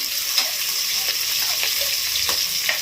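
Onions for egg biryani fry in a pan with a steady bright sizzle, broken by a few light stirring clicks, close and moderately loud.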